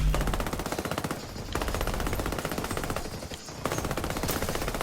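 Rapid automatic gunfire rattles continuously at the Titan Beta boss in a video game, with several players shooting at once and brief dips in the barrage.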